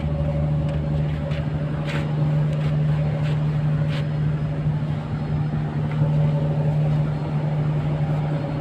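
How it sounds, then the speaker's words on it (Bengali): A trawler boat chugs past nearby, giving a steady low engine drone that holds for several seconds, with a few faint clicks and knocks above it. "আপনারা আউট একটা হয়তো নয়েজ পাবেন, কারণ পাশেই ট্রলার চলাচল করছে।"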